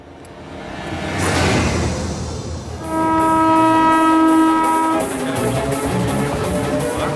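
A train departs from a railway platform, a loud rumbling rush of wheels and carriages building up before a long sustained horn blast sounds close by, then fades back into steady rolling noise.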